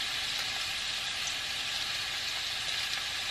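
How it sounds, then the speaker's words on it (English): Chow mein fried noodles sizzle steadily in a hot pan, a dense continuous hiss that stays close and fairly loud from start to finish with no talking over it. "Can you hear the sizzling, guys? This is like a very nice sizzling."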